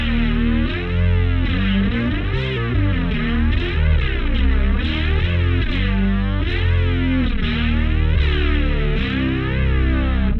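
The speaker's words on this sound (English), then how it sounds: "I have almost the same sound for the super distorted 808" Super distorted 808 bass played on a bass rig, a dense, gritty, continuous low drone with warbling chorus-like movement that stays loud throughout.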